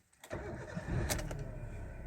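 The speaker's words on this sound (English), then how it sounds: "so let me start the car" A Maruti Suzuki Ritz car engine cranks and starts, catching quickly and settling into a steady idle, recorded up close with no talking.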